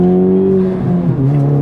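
A manual transmission car accelerating hard to get up to speed: a loud, close engine drone rises steadily in pitch, then dips briefly as if shifting before climbing again.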